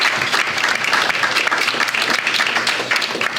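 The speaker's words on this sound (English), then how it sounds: "So I just want to give them a round of applause." A conference audience claps loudly and continuously for over three seconds in honour of sponsors, a dense crowded patter of hands with no voices over it.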